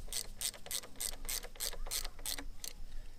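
Bolts on a BMW 135i N54 oil filter housing being snugged down, giving close, crisp ratchet clicks in about eight quick evenly spaced bursts over a faint steady background.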